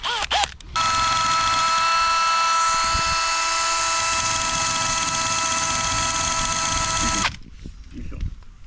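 A pinstripe remover wheel, also called a camera wheel, grinds old badge residue off the paint of a VS Commodore ute, a steady high-pitched whine running for about six seconds before stopping, with people talking.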